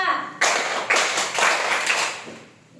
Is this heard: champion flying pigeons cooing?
no